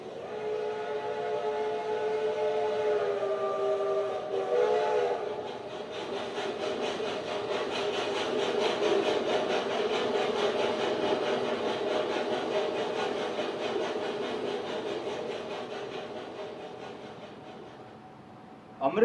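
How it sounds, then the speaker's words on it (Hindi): A train moving along with a sustained whistle blast held for several seconds over a continuous rumbling engine drone that fades gradually toward the end, moderately loud and steady. "अमृतसर से स्पेशल ट्रेन दोपहर 2 बजे चली"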